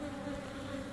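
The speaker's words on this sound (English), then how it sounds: "And it's Africa bees. Smaller than the American, Indian bee and European bee." A swarm of small African bees buzzes close by in a steady, dense drone that holds unbroken throughout, with no voices.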